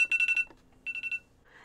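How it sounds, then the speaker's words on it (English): A phone alarm beeps in two quick bursts of about four tones each, fairly close and clear, with a short pause between bursts and no talking. "That was my alarm to wake up at 6:50"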